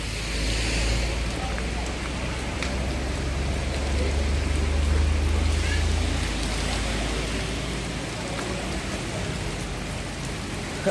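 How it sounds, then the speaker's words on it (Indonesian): Heavy rain pours down in a steady, dense wash of noise that lasts the whole stretch, loud and close, with a faint low rumble like passing road traffic underneath. "Aduh, hujan kacau."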